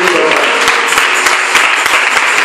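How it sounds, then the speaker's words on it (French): A church congregation at a Sunday service claps loudly and steadily for the pastor, with dense continuous applause filling the room. "si on peut se tenir debout et acclamer très fort pour la vie de l'homme de Dieu"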